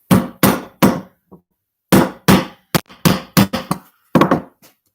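A hammer drives ball bearings into Lego train carriages, a series of sharp, close knocks in uneven clusters with short pauses, some blows louder and some light taps.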